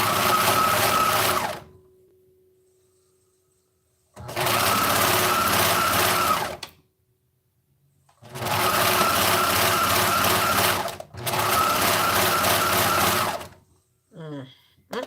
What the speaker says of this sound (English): Serger was doing fine.